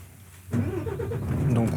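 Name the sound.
truck engine starting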